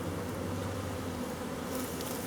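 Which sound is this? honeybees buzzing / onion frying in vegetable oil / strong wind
honeybees buzzing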